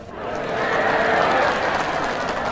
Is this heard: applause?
yes